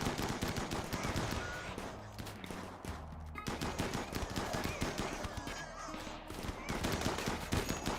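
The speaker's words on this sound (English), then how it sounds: "Oh, they're shooting us." Enemies in a video game shoot at the player with rapid, continuous gunfire: dense bursts of shots and automatic fire crackle throughout, steady and fairly close, with no break.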